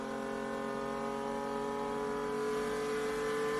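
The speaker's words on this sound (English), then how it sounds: "High revs, the engine sounds really good" A racing car engine holds a steady, high-revving whine throughout, loud and continuous with no pauses.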